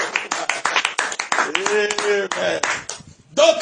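A congregation at a church service claps rhythmically and steadily. Voices shout and sing over the applause, and after a short lull near the end the clapping and voices start up again.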